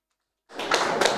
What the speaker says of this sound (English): Please, let's be clapping.